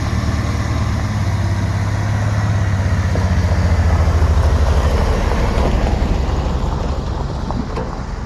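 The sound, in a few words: old Dodge vehicle driving up under its own engine power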